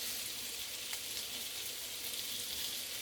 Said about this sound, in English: we're just going to sear them, get a nice brown coating on them